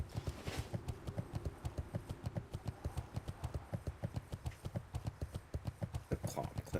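Steady, even clip-clop of horse hooves in a video game, the regular beats running alone at a moderate pace throughout, fairly close and quiet.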